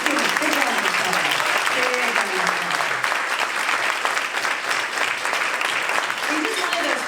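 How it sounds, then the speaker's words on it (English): A big, steady round of applause fills a room at a community service celebration, dense crowd clapping holding constant for several seconds with a few voices and cheers mixed in. "Yes, let's give a big round of applause."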